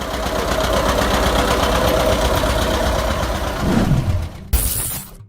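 A John Deere Model 60 tractor engine runs loud and close with a steady chugging, pulsing rumble that dips and slows near the end before cutting off, followed by a brief bright hiss.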